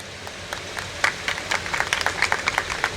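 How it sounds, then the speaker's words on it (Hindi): Scattered clapping grows into a round of applause from a modest crowd at an Independence Day celebration, with individual claps distinct and moderately loud. "तालियां हो जाएंगी"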